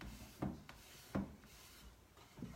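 A cloth rubs finish onto a wooden bowl from a thrift store, giving three short scuffing swipes close by over a quiet background.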